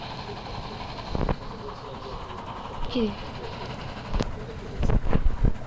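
A train rolls along in the zombie-survival video game Dead Rails, a steady rumbling rail drone with a few louder clanks and surges, while a person speaks briefly over it.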